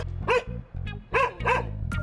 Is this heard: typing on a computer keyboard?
no